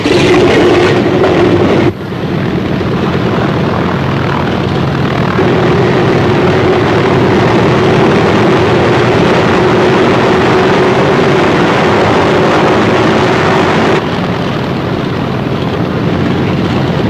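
C-47 transport aircraft carrying paratroopers toward Holland, their propeller engines droning loudly and continuously in flight, with a slight shift in tone partway through.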